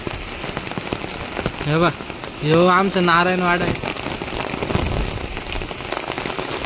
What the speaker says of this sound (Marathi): हे बघा किती जोरात पाऊस चालू आहे